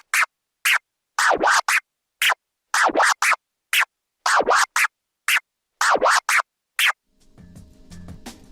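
Full DJ controller scratch combo mixing stabs and baby scratches in a rolling progression, a long run of crisp, rapid scratch bursts in a steady rhythm, loud and close, with a soft musical bed trailing at the end.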